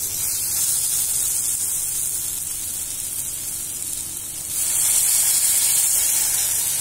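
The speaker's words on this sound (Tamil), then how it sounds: "இப்போ தண்ணி ஊற்றணும்." Water poured into a hot pan of paneer and capsicum gravy hits with a loud, steady sizzling hiss that surges brighter and stronger toward the end.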